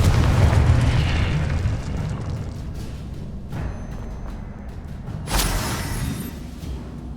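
Confringo blasting spells cast in the Hogwarts Legacy video game, heard as a loud rumbling explosion at the start that fades into a sustained roar, with a second sharp blast burst about two-thirds through.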